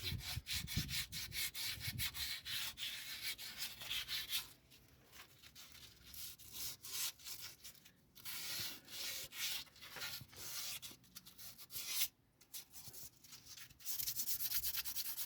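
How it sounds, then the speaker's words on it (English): Emery cloth rubs rust off a brake caliper during a Porsche brake caliper conversion on a VW T5/T6 van, heard as close, quiet, rhythmic scraping strokes in bursts with brief pauses. "So what's that, sandpaper? Emery cloth, yeah, like sandpaper."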